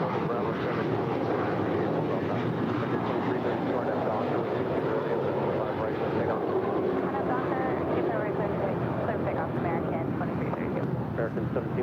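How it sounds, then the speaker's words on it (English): An American Airlines A321 jet departing LAX produces a continuous broad roar at moderate distance, with talking heard over the steady engine noise. "That is American Airlines 1713 departing to Orlando. It's an A321."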